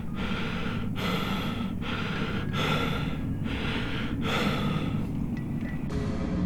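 Heavy breathing comes over a phone line, a series of loud, close, rhythmic breaths and gasps repeating about every second, with no voice.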